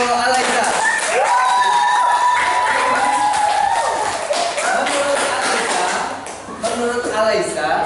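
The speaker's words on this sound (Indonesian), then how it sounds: "Tepuk tangan untuk Alisa" Classroom applause for a student called to the front during a computational thinking lesson, a steady wash of clapping from many pupils, with cheering voices mixed in for several seconds.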